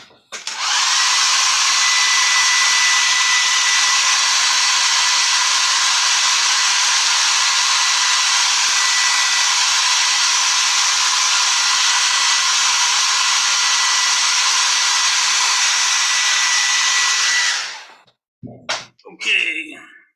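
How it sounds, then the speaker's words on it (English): A hair dryer blows loudly and steadily for about seventeen seconds, then cuts off, followed by a few brief clattering handling noises. "I'm going to hit the hairdryer for just about 15 seconds"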